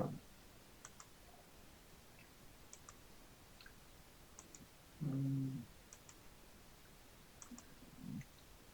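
Computer mouse clicks select cells in a Sudoku puzzle, several faint, light clicks spaced a second or so apart in a quiet room.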